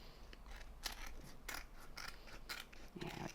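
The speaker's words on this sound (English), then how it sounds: "keep your scissors at an angle so you don't cut into your" Several quick, crisp snips of scissors cutting through paper, spaced in an uneven rhythm, close and fairly quiet.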